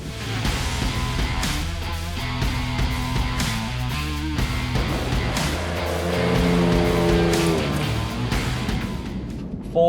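A Ford Ranger Raptor with a twin turbo V6, towing, driving under load: a loud, continuous engine drone that rises and shifts in pitch through gear changes, heard from inside with no talk.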